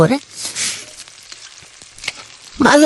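Chopped onions fry in a pan for a duck curry, giving a hissing sizzle with stirring scrapes. A voice speaks briefly at the start and again at the end.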